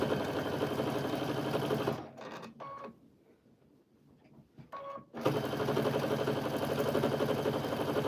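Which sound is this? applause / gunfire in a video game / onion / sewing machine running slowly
sewing machine running slowly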